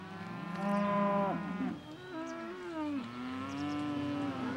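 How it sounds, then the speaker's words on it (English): Cattle low and moo loudly in a farm field as they are walked in toward the barn, several long drawn-out calls overlapping one after another with no talk. "The fields are getting very muddy, so it's time for the cows to come in."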